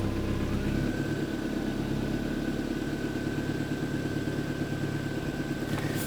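A car engine catches at once and settles into a steady, close, even idle with a constant hum and no voices.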